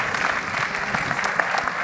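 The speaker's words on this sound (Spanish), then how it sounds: "merecen todos los aplausos del mundo" An audience at an ANTP event breaks into steady, dense applause, many hands clapping loudly and evenly throughout with no pauses.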